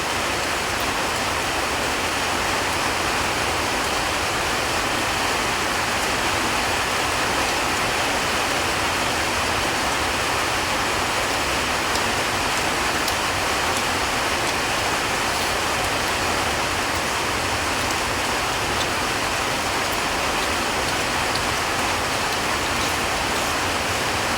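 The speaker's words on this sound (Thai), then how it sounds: "ฝนตกนะพี่น้อง" Heavy rain falls in a steady, dense hiss that does not let up, loud and close, with no voices over it.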